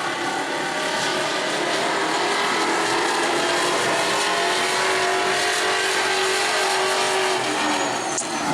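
A black number 52 sportsman race car engine roars steadily close by during qualifying at New Smyrna, holding a high-pitched drone throughout with a slight rise near the end.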